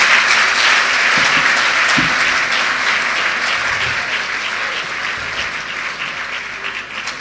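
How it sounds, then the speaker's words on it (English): A large audience applauds at a national student union delegates congress, with dense, steady clapping that fills the hall throughout and slowly tapers slightly in loudness toward the end. "have you stopped clapping?"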